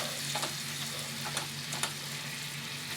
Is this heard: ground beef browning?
yes